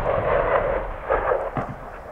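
Artillery shelling falls on the town of Latamneh in rural northern Hama, heard as a far-off rolling rumble with a few dull booms swelling and fading over continuous low noise.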